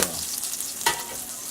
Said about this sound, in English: So got my garlic cooking,